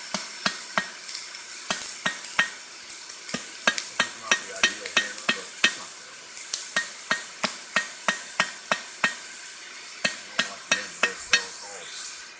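Steady hammer blows ringing on a hot cut tool at a coal forge, a long run of sharp, fairly evenly spaced metallic strikes over a constant background hiss.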